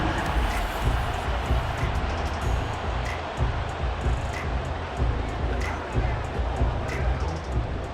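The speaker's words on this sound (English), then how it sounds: "that might be exactly what they needed to wake up this home crowd" A home crowd in an American football video game simulation roars steadily in a large stadium, a dense continuous wall of cheering and hubbub lasting throughout, with a commentator speaking over it.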